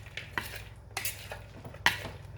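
Chicken wings tossed around in a bowl, producing soft clinks and scraping knocks of utensil against dish, a few scattered hits, close and fairly quiet, no voices.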